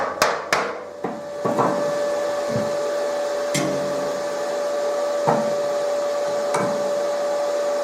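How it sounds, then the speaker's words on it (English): A Lidl plasma cutter slices through metal with a steady, loud hiss and a constant hum, opening with a few sharp clicks and pops and no voices. "If you want a plasma cutter and you haven't got much cash, buy a Lidl's one."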